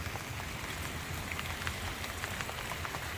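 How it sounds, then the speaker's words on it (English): Rain drums steadily on the roof of a van, a dense, even patter of countless drops heard from inside at moderate volume with no voices. "Because it is very, very noisy when it rains in the van."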